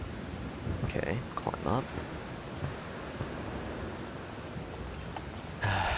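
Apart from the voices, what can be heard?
quiet rain in the video game Siren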